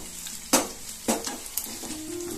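Hot oil tempering for South Indian brinjal and drumstick sambar crackles softly, with three sharp stirring or spattering bursts standing out against a steady low sizzle.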